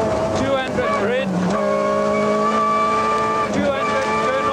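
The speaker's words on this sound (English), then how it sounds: "The Golf is visibly slower through the stage, and the sound of the drivetrain can be heard above the engine." Volkswagen Golf rally car on a 1995 stage, engine droning steadily with strong whining drivetrain tones rising and falling through gear changes, heard from inside the car and loud throughout.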